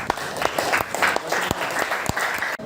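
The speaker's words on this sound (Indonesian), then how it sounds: "Tepuk bebas ya." Classroom students clap freely and unevenly, a burst of loose, overlapping hand claps with sharp individual slaps close by, with a few voices mixed in.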